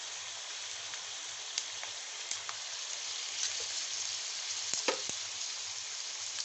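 Chicken frying in a pan with soy sauce and vinegar gives a steady, dense sizzle throughout, with occasional small pops and a brief stirring scrape near the end.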